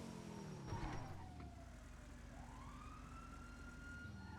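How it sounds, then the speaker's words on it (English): A police siren in a video game wails at a distance, its pitch sweeping up and down in long rising and falling arcs over a low background rumble. "I hear sirens."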